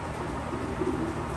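Pigeons in a pigeon loft give soft, low cooing that swells midway through, over a steady hiss of background noise, close and moderately loud.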